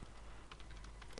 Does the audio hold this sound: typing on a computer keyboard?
yes